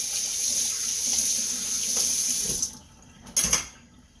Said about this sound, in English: you'll notice that I'm always washing dishes as I go